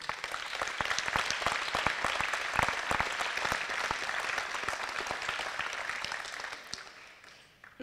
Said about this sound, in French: Et pour eux aussi, des applaudissements s'il vous plaît.